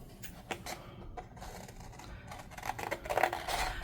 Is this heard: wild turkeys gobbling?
no